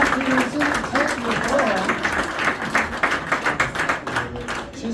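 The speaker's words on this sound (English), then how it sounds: "A big round of applause for her." Audience applause at a magic show in Nashville, steady clapping from a crowd that swells and then thins into scattered claps, with talking over it.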